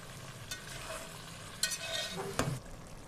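A spoon scrapes and stirs chickpeas frying in masala in a hot pan, sizzling, with a few sharper clanks against the pot.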